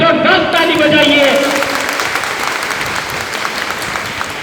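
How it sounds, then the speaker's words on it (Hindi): A crowd at a public gathering breaks into loud applause, a dense burst of clapping under a voice at the start that continues as steady, slightly thinning clapping. "मंगरू मांझी और पचिया देवी के नाम पर जोरदार ताली बजाइए"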